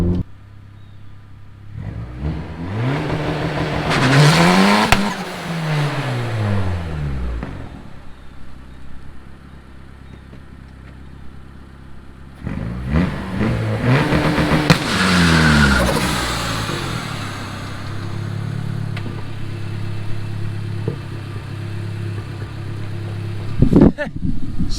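Turbocharged Honda Accord in an attempted burnout: two long, loud bursts of engine revving that rise and fall in pitch, separated by rougher idling, close by, with voices talking over parts of it.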